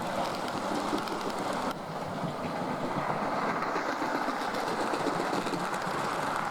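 A model railway A1 locomotive on a Little Bytham layout pulls its train away, giving a steady, continuous rolling rumble and rattle of wheels on track that holds at even loudness throughout, with no voices.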